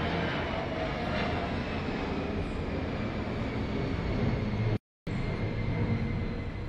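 Steady broadband roar of an airplane passing overhead, loud and continuous throughout with no speech, briefly cut by a short dropout near the end.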